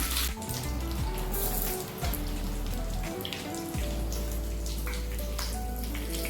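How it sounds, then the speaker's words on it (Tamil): Sambar with curry leaves is poured onto rice and stirred, giving a close, wet splattering and sloshing with soft squelches, continuous and fairly loud with no talk. "ரைஸில் கொட்டி கிளறிக்கலாம்."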